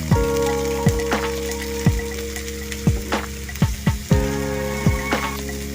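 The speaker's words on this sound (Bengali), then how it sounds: "আদা রসুনের গন্ধটা যাওয়ার জন্য সামান্য একটু ভেজে নেব।" Garlic and ginger paste frying in a pan for a roast dish, a steady loud sizzle punctuated by sharp crackles and pops at irregular intervals.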